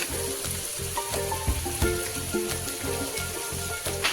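Spices with turmeric, salt, sugar and coriander powder sizzle and fry in a pan for a Bengali stuffed potato dish, a dense, continuous crackling hiss close by, with no talking.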